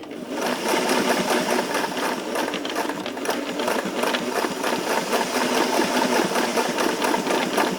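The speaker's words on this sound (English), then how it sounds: "I'm going to go forward, back, and forward, back to give a nice narrow zigzag stitch." A sewing machine runs steadily and close up, its fast, even mechanical whir sewing a narrow zigzag stitch across a belt loop on a pair of pants being altered at the waist.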